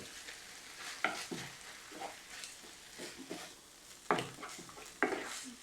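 Tomato coulis is stirred into ground beef in a pan, giving soft wet scraping strokes at an irregular rhythm over a low sizzle, fairly quiet and close.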